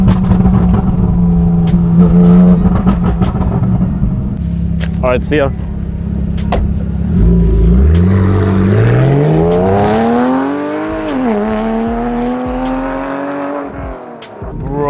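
A modified Porsche 911 Carrera 4S revs loudly near by, then pulls away with rising engine pitch and a faint tire chirp, as someone speaks briefly over it.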